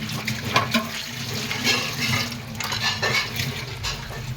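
Water runs from a kitchen tap while dishes are washed in the sink, a steady close splashing stream broken by brief clatters and sloshes of handled items.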